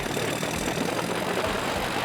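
A Harley-Davidson Street Bob's big V-twin engine idles in a dense, steady rumble, close and continuous with no voices over it.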